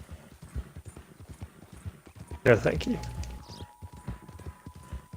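Horse hooves clip-clop in Red Dead Redemption 2 with a quick, regular rhythm of close footfalls throughout. A brief louder burst of voice and commotion comes in the middle.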